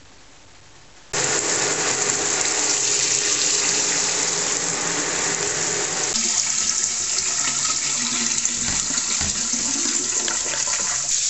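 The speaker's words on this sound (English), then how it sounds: "So take it into whatever source of water you have and rinse this thoroughly." Tap water runs in a steady, loud broadband rush over a plastic rabbit litter tray being rinsed, starting abruptly after a second of near silence and continuing without a break, its tone shifting as the flow hits the tray.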